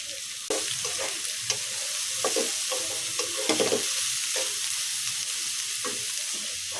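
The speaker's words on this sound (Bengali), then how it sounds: "দিয়ে দিলাম পেঁয়াজ কুচি" Chopped onion frying in oil with egg, a constant bright sizzle with scattered stirring scrapes and taps, close and steady throughout.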